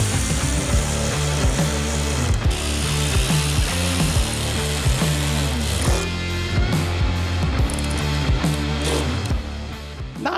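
A power tool runs up and tightens side step mounting bolts on a Defender in close, loud, repeated ratcheting bursts with short pauses between them, and no voices are heard.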